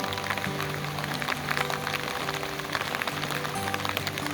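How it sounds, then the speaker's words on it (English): Rain pattering on a Cub Scout campsite, a steady broadband hiss of falling drops with scattered closer taps, and a faint low tonal hum drifting underneath, no talking. "It still rained in the morning during the flag ceremony"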